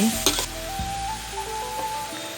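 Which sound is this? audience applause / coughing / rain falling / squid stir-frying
squid stir-frying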